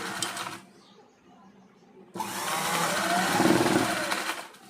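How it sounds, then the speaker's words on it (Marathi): A sewing machine runs steadily while stitching a blouse at the shoulder seam, a loud continuous mechanical whir that starts after a brief quiet pause and holds for a couple of seconds. "आता मी एक परफेक्ट शिलाई मारून देतो."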